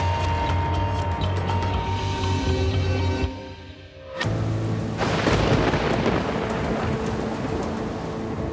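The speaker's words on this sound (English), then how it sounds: "A massive storm rips through Austin, Texas." A massive thunderstorm over Austin, Texas: heavy rain hisses throughout while thunder rumbles, drops off briefly, then a loud crack breaks into a dense roaring downpour that continues to the end.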